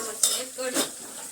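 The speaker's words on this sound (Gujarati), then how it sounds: "કઢીનો વઘાર કરી દીધો." Tempering (vaghar) for kadhi sizzling in a pan, a hissing sizzle with two sharp bursts as utensils clink and stir, close and brief.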